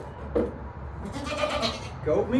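A farm goat bleats twice, short nasal calls at the start and near the end, close by and moderately loud, with people talking in between.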